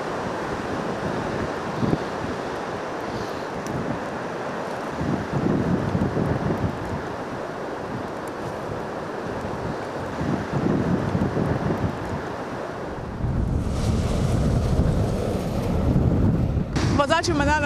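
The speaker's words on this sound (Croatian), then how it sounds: "Uz obalu pak puhala je jaka bura koja je stvarala poteškoće u prometu." Strong bora wind on the coast roars steadily with breaking surf, a continuous rushing and buffeting that grows heavier and louder toward the end.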